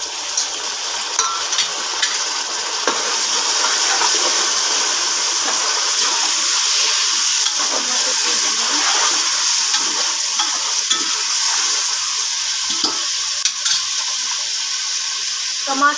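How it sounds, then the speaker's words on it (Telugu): Onions and tomatoes frying in a pan, with a loud, steady close-up sizzle and hiss and occasional stirring clicks, continuing throughout without talking. "ఇందులో మనం టమాటోస్ వేసుకోవాలండి"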